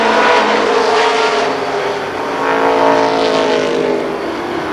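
Race cars circling Columbus Motor Speedway in a 1994 oval race, their engines roaring loudly and continuously as the pack passes, with the pitch swelling and easing in waves.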